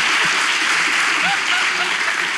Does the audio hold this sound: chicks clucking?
no